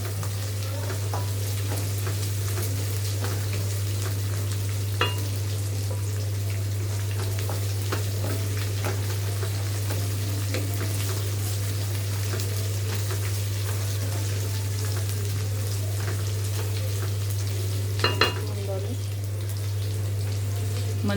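Peanuts frying in oil for mango pulihora, a continuous close crackling sizzle with occasional sharp stirring clinks, over a steady low hum.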